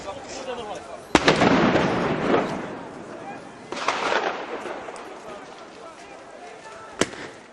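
Distant explosions and gunshots boom and crack at irregular intervals, with a sustained rumbling wash between them and a voice speaking over the top, recorded in Ukraine during a declared truce in February 2014.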